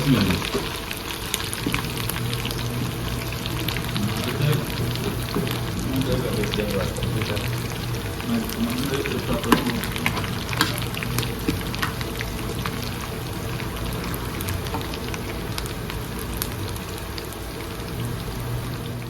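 Spices tempering in hot oil for a pumpkin thalippu dish make a steady, close crackling sizzle that runs the whole time beneath a person talking.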